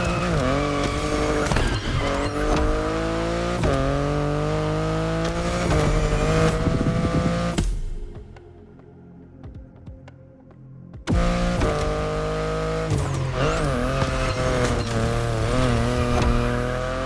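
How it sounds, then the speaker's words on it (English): A BMW i8 hybrid sports car in the racing game The Crew Motorfest revs hard with a loud, rising engine note and tire squeal, dropping to a quiet lull midway before the engine roars back in. "the sports car you're driving"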